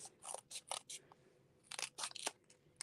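Scissors snip through embossing dimensionals backing in a handful of quick, close crisp cuts, in two short clusters separated by a brief pause.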